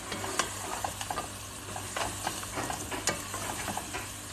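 Meat for mansaf, already boiled with cinnamon and cardamom, fries in a pot with a soft sizzle, broken by light scraping and clinking as it is stirred close by.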